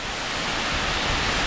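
Bridal Veil Falls pours in a steady, dense rush of white water, loud and even throughout with no breaks and no voices.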